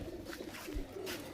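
Andhra pigeons cooing in a loft, a brief low throaty coo heard faintly and close, under a rustling background with no speech.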